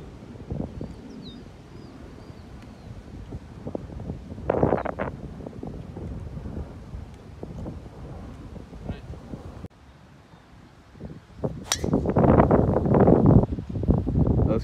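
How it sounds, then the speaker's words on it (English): Gusty wind buffets the microphone outdoors on a golf course, rumbling in waves and growing louder toward the end, with occasional bird calls and faint voices. "very windy out here"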